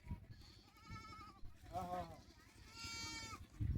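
A goat bleats a few times, wavering calls rising over a muffled, rustling background with some low voices nearby.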